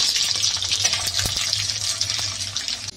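Panch phoron whole spices sizzling in hot mustard oil in a kadai alongside dried red chillies, a steady bright crackle with scattered pops throughout.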